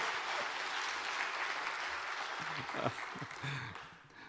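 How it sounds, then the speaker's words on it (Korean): Applause from a church congregation during a Sunday worship service, a broad wash of clapping fading out toward the end, with a voice speaking briefly over it. "박수를 치려면 다 같이 치고 안 치려면 말고."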